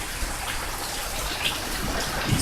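Steady rain falls during a summer afternoon thunderstorm in Tampa, a continuous even hiss of drops at moderate loudness with a few slightly sharper splashes, no talking.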